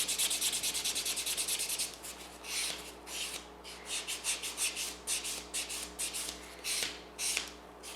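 A polygel stiletto nail extension is buffed with close, scratchy rubbing strokes, steady and dense at first, then broken into shorter rhythmic passes, with no talking.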